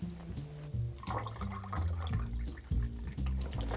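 Ginger beer, two to four ounces, poured into a cocktail glass for a whiskey highball, a steady close liquid stream with fizzing and splashing that runs throughout, over a low background hum.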